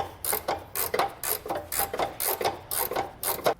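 Ratchet wrench snugging trailer hitch bolts on a 2018 Dodge Durango, a close rhythmic series of rasping clicks in regular back-and-forth strokes, about eight pulls in quick succession.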